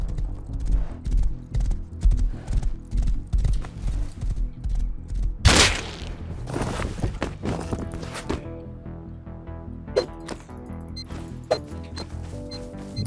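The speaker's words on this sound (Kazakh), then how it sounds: "Лошадка, уходи отсюда." A horse in the survival video game Rust clops along with rapid, steady hoofbeats. A sharp burst and a whinny follow midway, then scattered game effects play out without speech.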